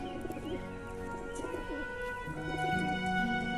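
Kept pigeons coo softly alongside steady background music, with no speech over the birds.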